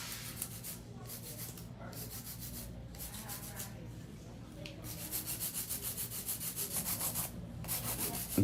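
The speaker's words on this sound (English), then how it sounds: "And that's hand filing." Acrylic powder nails in a long coffin shape are filed by hand, close and fairly soft, with repeated gritty rasping strokes that turn quicker and more rhythmic toward the end.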